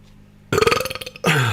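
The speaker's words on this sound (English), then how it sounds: "belch count number one" A single loud belch, close to the mic, rattling for about a second with a short second gulping burp right after, no speech around it.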